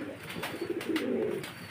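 Lahori pigeon cooing in a pigeon seller's loft, a few soft throaty coos in a short rolling series, close and quiet with no talking over it.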